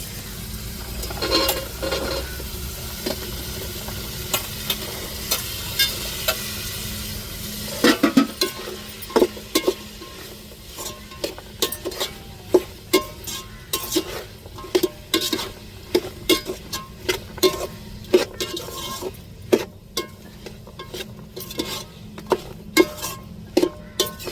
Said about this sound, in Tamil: இஞ்சி பூண்டு நல்லா பச்சை வாடை மாறக்கட்டியும் நல்லா வதக்கி விட்டுக்கிடுவோம்